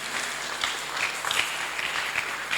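A church congregation at a Sunday school gathering applauds, a brief continuous wash of many hands clapping at steady loudness with faint voices mixed in.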